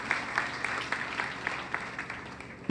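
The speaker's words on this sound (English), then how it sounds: "Big round of applause for him, please." Audience at a volcanic eruption highway update gives a short round of applause, moderately loud and even, with a few sharper claps standing out.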